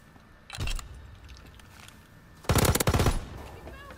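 The Itra Burst gun fires in Call of Duty WW2, close and loud: a short burst of rapid shots, then a pause, then a longer rattling volley of quick bursts.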